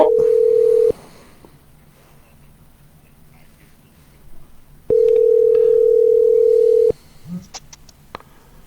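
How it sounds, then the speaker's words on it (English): A telephone dial tone sounds loud and steady in two stretches, one short and one about two seconds long, with faint clicks and brief dialing beeps between them in an otherwise quiet room. "Now we're going to go ahead and dial that number"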